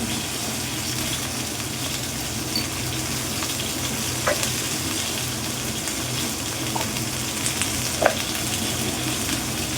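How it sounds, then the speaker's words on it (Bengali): Spices with salt, turmeric and chilli powder sizzle and fry steadily in a pan while being lightly stirred, a continuous close crackling hiss with a few soft scraping touches and no talk. "হালকা একটু নেড়ে নিলাম"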